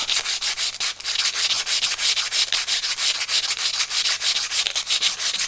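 Steady rhythmic rubbing of sandpaper on a small wooden dowel for a model ship, fast back-and-forth strokes, close and continuous with no other sounds.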